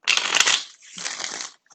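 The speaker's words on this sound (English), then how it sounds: "let me just shuffle this a little bit." A deck of cards is shuffled close by in two quick riffling bursts, crisp and papery, with a short pause between them and a faint tap at the end.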